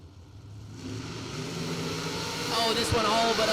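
Drag race cars at a Sunday 20K main event in Abruzzi launch down the strip, their engines building to a loud, rising roar. An announcer talks over the noise.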